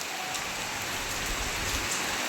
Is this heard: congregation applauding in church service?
no